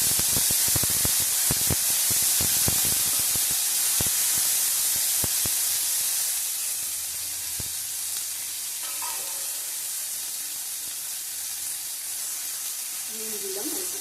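Yardlong beans fry in a hot kadai for khichuri, a loud continuous sizzle with sharp stirring clatters early on that settles into a steadier hiss, with a voice speaking faintly near the end.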